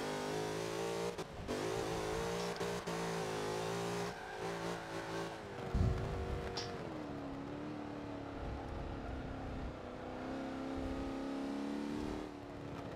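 Race car engine in Forza Motorsport 7 played with a Thrustmaster TX wheel, droning and revving continuously through gear changes, with a brief rough scrape or tire noise midway, steady and fairly loud throughout.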